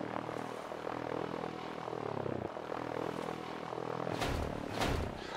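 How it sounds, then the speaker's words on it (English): A helicopter in the video game Sunkenland drones with a steady rotor and engine hum, swelling louder and rougher near the end as it appears to start up or take off. "Oh shit, I jumped into my helicopter."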